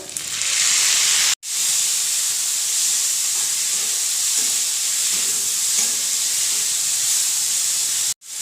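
Tomatoes go into lightly golden-brown onions frying in hot oil, giving a loud, steady sizzle and hiss that runs almost unbroken, cut by two brief silent gaps.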